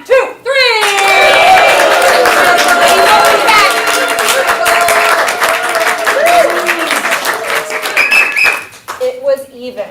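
Audience at a comedy improv show applauding and cheering loudly for about eight seconds, with voices and whoops rising over the dense clapping before it suddenly drops off near the end.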